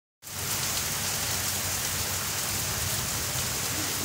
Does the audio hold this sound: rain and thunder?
yes